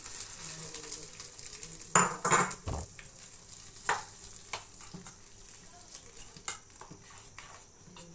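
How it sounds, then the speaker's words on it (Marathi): Hot tempering of asafoetida, green chilli and curry leaves hits the dish, bursting into a brief loud sizzle, then a soft ongoing fizz with scattered spoon clinks and scrapes, close by. "आणि ही चुरचुरीत अशी फोडणी याच्यावर घालतीये"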